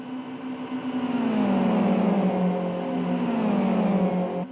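GT race cars in the Buggyra Zero Mileage GT Cup racing game at Kyoto National, a loud engine drone holding and shifting pitch as cars run close together, with no talk over it.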